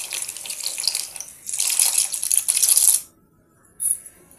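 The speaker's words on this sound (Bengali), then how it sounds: "এবার আমি পাস্তাটা ঢেলে দেব।" Dry pasta tipped into a pot of hot salted water: a close, rushing hiss-and-splash lasting about three seconds with a short pause in the middle, then quiet and a brief faint rattle near the end.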